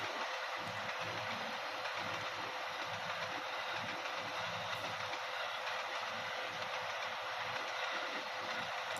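Interior of the rear carriage of the Blambangan Ekspress passenger train hauled by a CC 206 locomotive, a steady broadband rumble and hiss with faint rhythmic wheel clatter, continuous and without talk.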